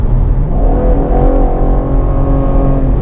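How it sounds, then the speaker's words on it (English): A 2017 Chevrolet Camaro V6 at full throttle, its engine drone loud and close with steady harmonic lines rising slowly over three seconds, showing only a sluggish climb in revs. "Now I'm going to floor it and see what happens."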